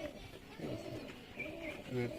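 Pigeons at a home loft coo in soft, rising-and-falling phrases, several overlapping through the clip at moderate closeness, with a faint background hum and no clear talk.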